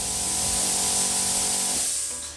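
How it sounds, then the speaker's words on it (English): The built-in air compressor of a plasma cutter runs with a loud, steady rush of air over a low motor hum. It is close, then the sound tapers off at the end. "Here the compressor start up straight away. That's the internal compressor"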